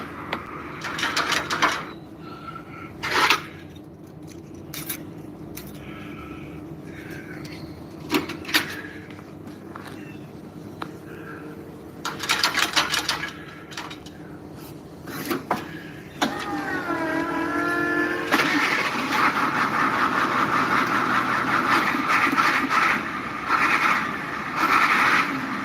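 A Ford 7.3 liter IDI non-turbo diesel in a stick-shift bus comes after several clunks and knocks, then cranks and catches. It settles into a loud, steady, rumbling idle that runs to the end.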